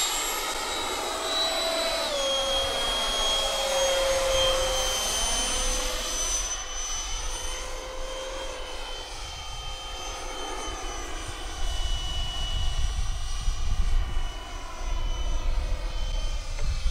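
An FF-Viper-70 prototype model aircraft flies overhead with a steady, high-pitched engine whine that rises and falls as it passes back and forth, fairly distant, with no talk.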